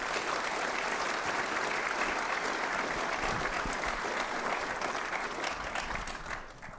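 A large audience applauds at a business plan competition, a dense, steady wash of clapping holding strong throughout and thinning slightly at the end.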